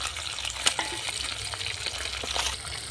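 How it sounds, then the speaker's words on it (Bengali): Pieces of snakehead fish fry in hot oil, giving a soft, continuous sizzle broken by light clinks and scrapes as they are turned, with no voices. "আমি শোল মাছগুলোকে এভাবে উল্টে পাল্টে লাল করে ভেজে নিয়েছি"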